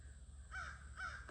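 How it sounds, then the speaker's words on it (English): Crows caw at an evening gathering in trees, two distinct harsh calls sounding in quick succession at moderate distance over a quiet outdoor background. "It's the evening crow gathering."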